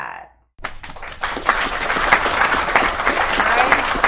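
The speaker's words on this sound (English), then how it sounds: "I think you guys need a round of applause for" A round of applause breaks out after a brief silence, dense clapping building quickly and holding steady and fairly loud.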